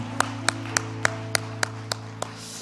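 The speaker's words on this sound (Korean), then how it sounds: "살아계신 하나님께 영광의 박수 올려드리겠습니다" A church congregation at a Friday late-night prayer service claps in a slow, even rhythm, about eight sharp claps spaced roughly a third of a second apart over a steady low hum.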